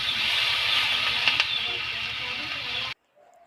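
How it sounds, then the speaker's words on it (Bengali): Water spinach (kalmi shak) frying in a pan, a steady broad sizzle and hiss that runs for about three seconds and then stops abruptly, leaving near silence. "এদিকে দেখো কলমি শাক ভাজা হচ্ছে"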